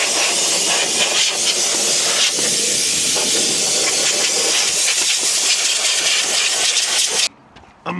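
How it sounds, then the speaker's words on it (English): Compressed air line blasting dirt off the transmission tunnel of a JCB Fastrac tractor with its floor removed, a loud, close, steady hiss running for about seven seconds before cutting off abruptly, then a short burst returning. "we've got the air on the side there. We might just use that, just to blow it off that transmission tunnel"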